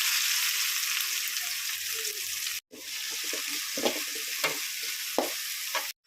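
Chopped onion and fennel seeds fry in a pan with a strong, even sizzle, then a brief cut to quieter frying punctuated by stirring scrapes and taps.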